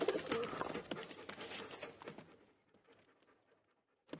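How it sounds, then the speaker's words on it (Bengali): Pigeons of a prized Benares green breed, a pair released together, give soft throaty coos and panting calls up close, busiest in the first two seconds, then fading to near silence before a short final burst. "দুর্দান্ত কোয়ালিটির একটা পায়রা।"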